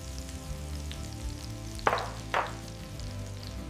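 Butter with a little olive oil heats in a hot pan for cooking steak, giving a faint, soft sizzle that flares into two brief, louder crackling bursts a moment apart.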